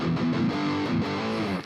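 An electric guitar plays through a Boss GT1000 Core amp model with a scooped, distorted tone, a few sustained notes and chords ringing with harmonics, close and clear, fading at the end, with no talking.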